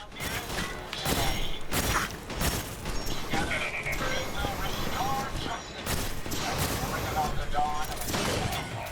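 Gunfire in the Fallout 4 Automatron add-on: a run of loud, rapid shots with sharp mechanical clacks, heard during play, dense and continuous for several seconds.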